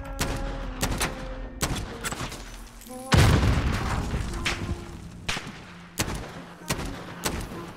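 Gunfire in the Modern Warfare video game: sharp single shots and short bursts crack at irregular intervals, with one heavier boom in the middle, close and fairly loud.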